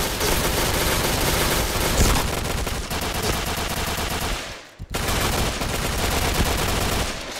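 Rapid automatic gunfire from the XM7 rifle in the shooter game Point Blank rattles in dense, loud sustained bursts, with one brief gap midway before the firing resumes.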